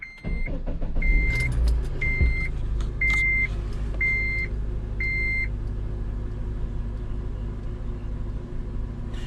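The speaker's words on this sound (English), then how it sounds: "engine sounds good. I'm just letting it warm up just because it's been sitting a while." A Honda Element engine idles steadily as it warms up after sitting for a while, a low continuous rumble with a regular series of short electronic warning beeps over it early on.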